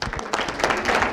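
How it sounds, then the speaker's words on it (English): A brief patter of applause, scattered claps blending into a dense crackle from a small crowd. "So a round of applause for me."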